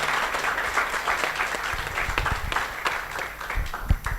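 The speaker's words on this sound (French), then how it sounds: "Je veux bien vous applaudir" Steady applause from an audience at a conference on artificial intelligence in Africa, dense and continuous at moderate level for the whole stretch, with no talking.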